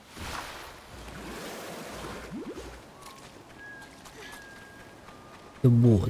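Water washes and surges in the Bayonetta Origins video game, a soft rolling wash with faint tonal game effects, under a voice talking.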